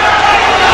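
Boxing crowd at Madison Square Garden roars for hometown favorite Buddy McGirt during his bout with Pernell Whitaker, a dense, loud, continuous wash of cheering from the arena.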